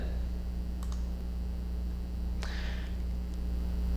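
A few sharp computer mouse clicks spaced over a few seconds, faint against a steady electrical hum.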